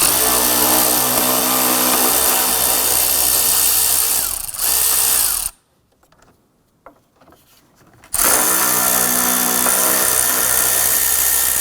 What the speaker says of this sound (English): let's go ahead and remove these two nuts using our 10mm socket